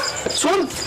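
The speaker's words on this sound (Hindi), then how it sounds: "कुत्तों की आवाज फिर आ रही।" A dog yips and whimpers close by in a Pakistani paranormal program, a short high whining bark under a voice.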